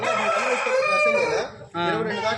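An Aseel rooster crows loudly up close, a long drawn-out call followed by a second shorter crow after a brief pause.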